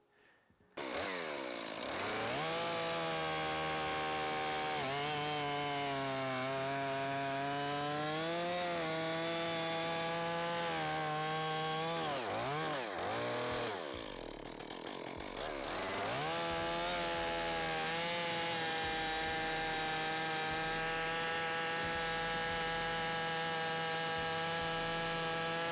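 A Stihl MS 461 chainsaw cuts through softwood, its loud engine holding a steady high whine with rising and falling pitch as the chain bogs and recovers, including a brief dip midway, with no talk.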